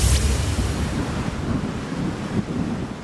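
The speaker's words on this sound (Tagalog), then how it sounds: "Winawasiwas ng hangin ang mga sanga na ito dahil sa malakas na hanging dala ng bagyong Christine." Strong typhoon wind from Typhoon Christine roars steadily and loudly close to the microphone, thrashing tree branches with a heavy, rumbling buffet throughout, and no one speaks.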